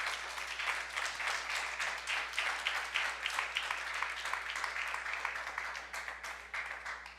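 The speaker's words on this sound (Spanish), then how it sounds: "Dale un aplauso al Señor," A church congregation claps together in a steady, moderately distant burst of applause that runs throughout, with a low hum beneath and no clear talk.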